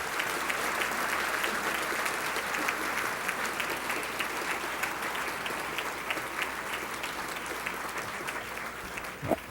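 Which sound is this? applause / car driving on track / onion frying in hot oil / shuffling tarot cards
applause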